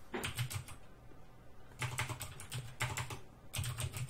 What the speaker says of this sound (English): I'm typing the words Playmaker